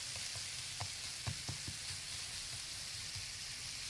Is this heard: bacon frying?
yes